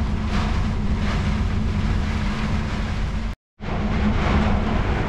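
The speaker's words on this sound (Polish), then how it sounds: "Pogoda się skopała bardzo. Wieje, leje," Wind and rain buffet a truck cab while driving through bad weather, a steady loud roar with a low engine hum, briefly cut to silence before the rushing noise resumes.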